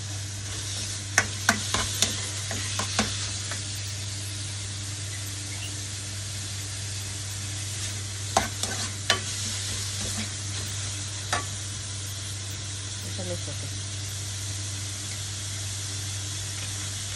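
Yakisoba noodles with pork stir-frying in a pan, a steady broad sizzle running throughout, with sharp scraping clicks from the spatula in scattered bursts and no talk.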